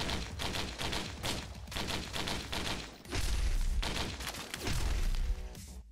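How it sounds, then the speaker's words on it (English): Fireworks launched at enemies after opening a chest in the Risk of Rain video game: a rapid, dense barrage of crackling pops and bursts, loud and continuous, with heavier booming thumps midway. "Opening a chest launches fireworks at nearby enemies."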